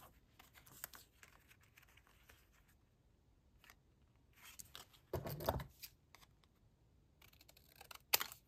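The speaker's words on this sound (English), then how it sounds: "for Gunther and apparently Mary Jane, going to cut a lot off" Scissors cut through a paper file folder in a quiet room, with a few faint snips and rustles, one louder crunching cut, and a sharp snip at the end.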